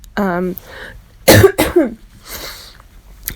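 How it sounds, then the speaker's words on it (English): After a brief spoken sound, a person coughs twice in quick succession, harsh and close, followed by a quieter breathy exhale. "I've picked up a really nasty cough."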